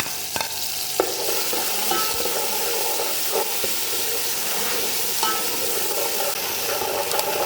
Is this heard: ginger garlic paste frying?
yes